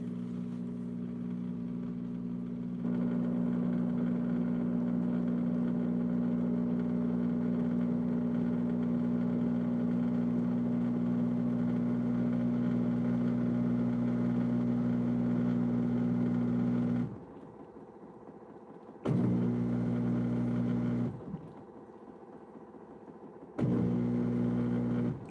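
A washing machine on its final spin cycle, rated up to 800 RPM, holds a steady loud motor drone that stops abruptly twice and restarts, with quiet gaps between.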